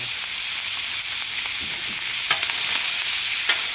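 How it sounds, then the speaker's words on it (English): Cubes of boiled cow tongue sear in a hot pan for tacos de lengua, a loud, constant close sizzle broken by a few light clicks of a utensil moving the meat. "we're just gonna go ahead and give it a nice little sear"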